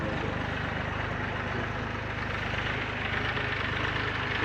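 A tractor engine runs at a paddy field before rice transplanting, a close, loud and unbroken low diesel throb that holds steady from start to finish.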